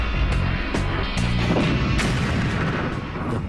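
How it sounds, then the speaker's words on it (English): An Iron Fist active protection system on an APC launches a projectile to intercept an incoming grenade, with loud, continuous booming blasts and crashing impacts throughout. "Iron Fist launches its projectile to intercept the incoming grenade."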